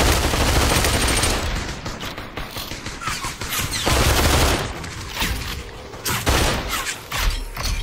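Rapid bursts of gunfire and mechanical weapon clatter fill a busy VR battle royale match in Population One, loud and continuous with uneven rhythm.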